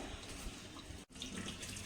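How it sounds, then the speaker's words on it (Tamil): Tap water runs steadily over wheat Hakka noodles being rinsed in a kitchen sink, a continuous close splashing rush with one brief break. "தண்ணி வந்து நல்லா அலசி எடுத்துக்கணும்."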